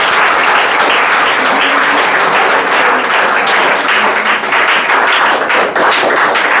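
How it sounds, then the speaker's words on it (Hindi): An audience claps steadily and densely at a school prize-giving ceremony, with a close, continuous patter of many hands and no voices standing out. "इसके लिए भी ताली बजा दीजिए भाई।"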